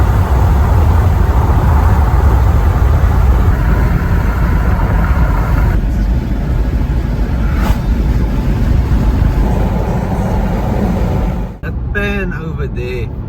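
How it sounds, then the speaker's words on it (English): A car drives through heavy rain on a cloudy South African road, with a loud steady roar of rain and road noise filling the cabin. It continues throughout, then briefly dips near the end as another sound cuts in. "hard bit of rain that we're driving into"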